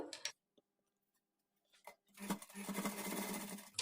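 Sewing machine stitching a blouse sleeve: a few isolated ticks and short clicks, then a steady fast whirring run of stitches that continues loudly to the end, close by.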